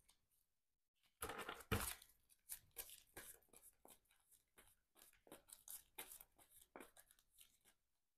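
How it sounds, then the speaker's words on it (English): A deck of encounter cards for a solo superhero card game is shuffled, starting with a loud riffle burst followed by a run of quick, close crisp card riffles and taps with no talking. "let's go ahead and shuffle up the encounter deck."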